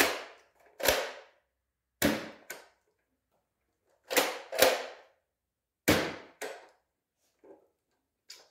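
A modified Nerf blaster with an extended barrel fires AccuStrike foam darts: sharp, close pops, about eight shots, mostly in spaced pairs with clean silence between them and a softer thump near the end.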